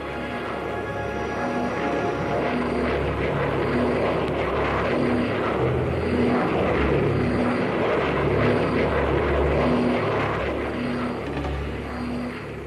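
A Thunderjet fighter jet in flight gives a steady, loud engine drone with a constant tone, heard alone and without a break from start to finish.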